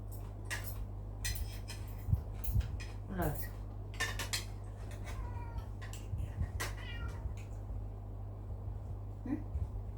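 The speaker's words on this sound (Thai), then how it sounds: "แมว" A cat meows several times, clear and fairly close, over a steady low hum, with dishes, pots and cutlery clinking in a kitchen during cooking.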